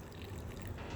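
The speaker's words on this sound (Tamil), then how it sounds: "கொஞ்சம் தண்ணி ஊற்றிக்கிடுவோம்." Water pouring into fenugreek leaf adai batter in a mixing bowl, a soft continuous close-up splash and trickle lasting about a second.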